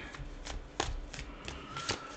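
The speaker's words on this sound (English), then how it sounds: "Get some clean shuffles here." Rapid papery riffles of tarot cards being shuffled, a quick run of soft bursts close up, with no talking.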